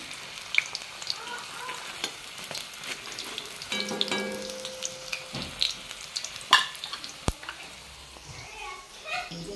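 Lentil fritters (bora) frying in hot refined oil, a steady close sizzle with light clinks of stirring, while a voice talks faintly in the background.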